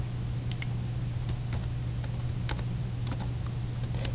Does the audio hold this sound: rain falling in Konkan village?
no